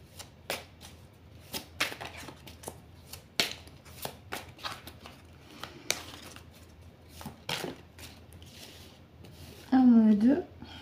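Oracle cards being shuffled by hand, a run of quick riffling flicks and soft slaps in irregular bursts, close by, with a brief voice near the end.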